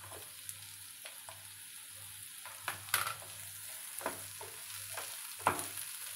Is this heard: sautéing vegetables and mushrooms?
yes